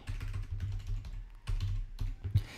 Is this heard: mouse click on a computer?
yes